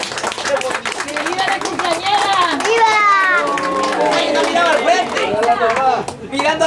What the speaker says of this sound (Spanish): los aplausos para la compañera, por favor,